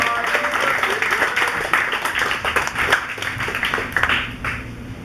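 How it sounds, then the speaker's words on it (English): A comedy club audience applauds and cheers for a comedian taking the stage, with dense, sustained clapping that fills the room and tapers slightly near the end. "everybody give a huge round of applause for my good friend Miss Lisa Friedrich"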